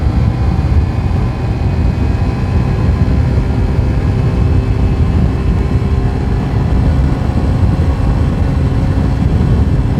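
A Hero Super Splendor BS4 motorcycle accelerates in third gear during a top-speed run, its steady engine drone mixed with constant wind rush, loud and unbroken throughout.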